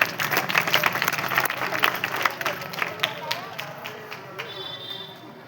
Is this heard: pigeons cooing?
no